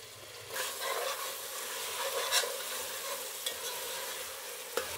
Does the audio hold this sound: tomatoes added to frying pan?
yes